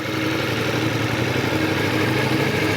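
A motorcycle engine idles steadily close by during a riding lesson on circle and figure-eight practice, a continuous low rumble with a faint clatter.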